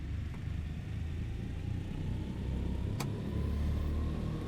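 Twin radial engines of a Douglas DC3 in Flight Simulator 2020 drone and rumble steadily as power is eased up, a low continuous hum that swells slightly, with a brief click partway through.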